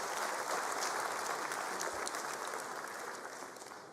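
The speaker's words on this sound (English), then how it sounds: "Let's give them a big, big hand of applause." An audience at the 2022 matric results announcement by the Department of Education applauds teachers and school principals, a dense, steady wash of many hands clapping that holds for several seconds before tapering slightly, with no voices over it.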